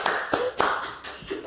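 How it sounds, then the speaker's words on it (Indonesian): A few scattered claps from an audience at a batik-themed modelling presentation in Sumedang, short sharp hand strikes at an irregular pace, close and moderately loud with no voices. "tepuk tangan lo dong semuanya"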